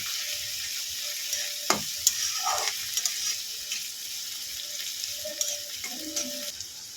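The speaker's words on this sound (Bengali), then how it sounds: "একটা বড় সাইজ টমেটো নিয়েছি কেটে নিয়েছি ছোট করে দিয়ে দেবো ভালো করে এটাকে হালকা করে ভেজে নেব" Chopped tomato frying lightly in a pan, a steady broad sizzle with scattered clinks and scrapes of stirring and a few louder knocks, no voices.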